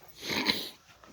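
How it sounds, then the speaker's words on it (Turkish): An Akbaş puppy gives a single short, breathy whimper or snort, close and fairly soft, fading within about a second. "köpekler hemen giriyorlar"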